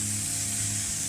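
A garden watering system on a timer sprays water from each corner across a vegetable garden, giving a steady, even hiss of spray throughout with no talk.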